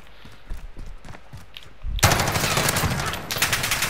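Rapid automatic gunfire in Call of Duty: Modern Warfare, scattered shots at first, then a sudden loud, sustained burst of close, dense fire for the last two seconds.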